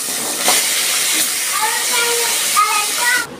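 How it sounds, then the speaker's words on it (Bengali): Hilsa fish heads sizzle and hiss in hot mustard oil, a steady loud frying crackle with spitting bubbles throughout, while a voice speaks over it. "এবার বাকি মাথাগুলো আমি এইভাবে ভেজে তুলে নিচ্ছি।"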